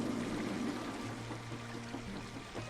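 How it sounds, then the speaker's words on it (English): Water splash effect in the Planet Coaster video game, a steady rushing pour of water that fades slightly over a few seconds, with no talking. "you set that to the triggered event, like right as it hits here, it goes splash"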